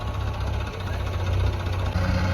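A diesel tractor engine runs loud and close, a heavy rumbling idle with steady knocking pulses and no voices.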